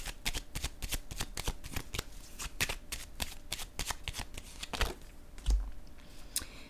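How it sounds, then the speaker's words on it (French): A deck of oracle cards shuffled by hand at close range, a quick run of crisp riffling flicks in steady rhythm, ending with a soft thump as the deck is tapped together. "Je vais piger maintenant une carte de mon oracle de l'âme intuitive."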